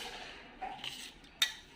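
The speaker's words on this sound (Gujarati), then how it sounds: "પાણી એડ કરી અને આને છે ને આપણે આમ હલાવશું. ગોળ મેલ્ટ કરી લેશું હલાવીને." A spoon stirs jaggery into water in a pot to melt it, giving soft scraping swishes and a sharp metallic clink against the vessel, quiet and close.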